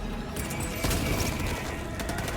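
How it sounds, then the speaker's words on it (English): A grenade explosion and gunfire in Helldivers, with a burst of rapid shots and heavy booms over a dense, continuous roar of battle, loud and close. "Throwing grenade!"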